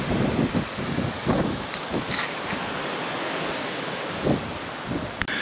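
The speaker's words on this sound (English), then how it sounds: "we just arrived here at the only entrance of the Praia de Falésia" Surf rolls in at Praia da Falésia beach in Albufeira, Algarve, a steady wash of waves with gusts of wind buffeting the microphone and a few louder surges, and no one talking.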